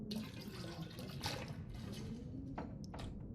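Water is drunk in The Long Dark, giving a quiet, steady run of liquid sloshing and gulping, with a few soft splashy bursts near the end and no talking.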